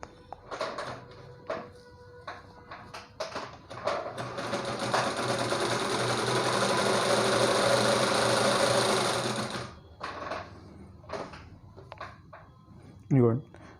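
A 4-in-1 pico and zig-zag sewing machine runs a zigzag stitch in one steady, buzzing burst of several seconds, with brief handling clicks before and after it and someone talking at the start and end.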